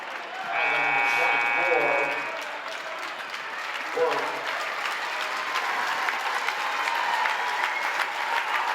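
A crowd at a girls basketball game gives a standing ovation, loud sustained clapping and cheering that swells and then carries on with a bleating-like cheer over the top.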